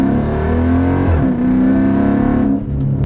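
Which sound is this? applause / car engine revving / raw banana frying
car engine revving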